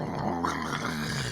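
A dog growls low and steadily at close range, a rough continuous rumble with a slightly rising whine, no talking.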